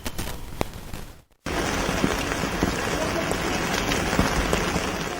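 Steady broadband hiss of morning rain falling in Srinagar, continuous and fairly loud after a brief dropout, with scattered drop impacts throughout.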